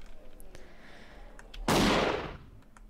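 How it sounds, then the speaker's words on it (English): A single loud gunshot in a video game as a lock is shot, a sharp burst with a short decaying tail that stands out against faint background noise and scattered small clicks. "Sometimes it's acting like I'm not shooting the lock, but I am."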